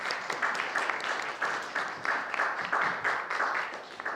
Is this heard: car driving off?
no